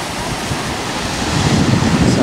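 Ocean surf at Burleigh Heads beach in Queensland, a loud continuous roar of breaking waves mixed with wind buffeting the microphone, swelling slightly toward the end.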